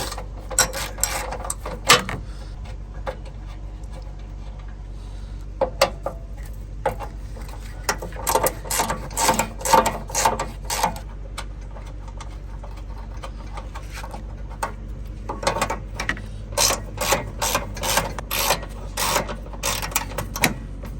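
A ratchet backing out 10mm bolts on a Honda Odyssey during a coolant leak repair, with rapid clicking bursts coming in uneven runs over a steady low hum, close and clear, no talking.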